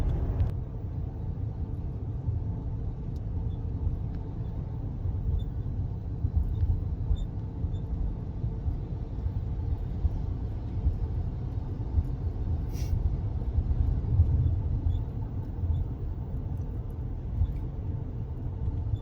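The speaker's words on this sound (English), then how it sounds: "Turn the air down so you guys can hear the road noise." Steady low road rumble inside a 2022 Ford Maverick cabin while towing a trailer, a continuous broadband drone with the air turned down and no talking.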